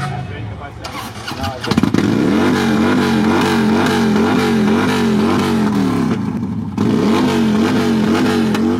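A motorcycle engine revs loudly up close at a 2024 motorcyclists' rally in Jekabpils, Latvia, rising and falling in pitch with repeated throttle pulses, and a second burst of revving near the end.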